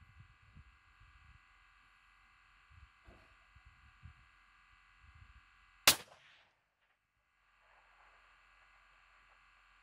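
Desert Tech .338 rifle fired at night, one sharp, loud gunshot crack that rings out briefly and then fades, after quiet low thumps and steady background hum.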